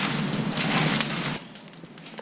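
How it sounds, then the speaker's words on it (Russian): Calçot onions roast over an open fire, giving a dense close crackle and sizzle that cuts off abruptly partway through, leaving faint ticking. "Готовится он на открытом огне."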